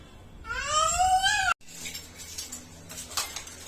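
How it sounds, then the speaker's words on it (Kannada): A child washes dishes at home: a high, wavering cry comes first, then after a brief pause a run of faint clinks and rattles of pots and utensils. "ತಾನ್ವಿ ಪಾತ್ರೆ ತೊಳಿತಾವಳೆ"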